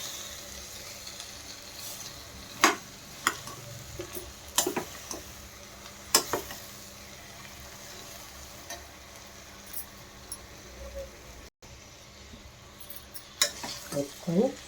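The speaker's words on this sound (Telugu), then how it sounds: "ఆలుగడ్డ, క్యాబేజ్ అన్నీ వేసుకోవాలి ఒకేసారిగా. వేసుకొని కలుపుకోవాలండి" Potato and cabbage, together with carrot and ivy gourd, are stirred in a frying pan over a low steady sizzle, with a few sharp spoon knocks and scrapes spaced irregularly through the mix.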